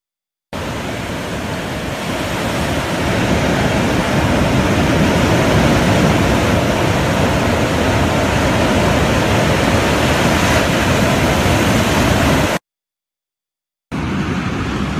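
Pacific Ocean surf rolling onto the shore, a steady loud wash of breaking waves that continues unbroken before cutting out briefly near the end and resuming.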